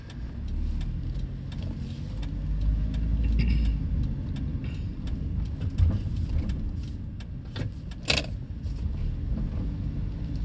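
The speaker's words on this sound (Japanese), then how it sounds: "車多いですね、こっちは対向車。" Road traffic near a highway interchange and station entrance in Higashimatsuyama, with oncoming cars passing close by in a steady rumbling flow, swelling and fading as vehicles go past, plus a brief sharp click.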